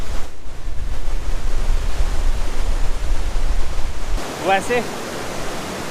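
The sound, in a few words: river flowing below mountain trail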